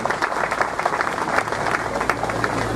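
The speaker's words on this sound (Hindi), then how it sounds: "इसलिए एक बार जोरदार ताली उनके लिए भेजा।" Crowd applause at a public inauguration ceremony for a police station, a steady dense clatter of many hands clapping fairly close, with some murmuring voices mixed in.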